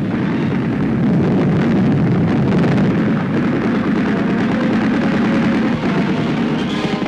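Grenade explosions and battle noise from WWII fighting at Tarnopol in 1944, with German positions in stone houses under attack. A dense, continuous roar of booms and rumble runs steadily throughout.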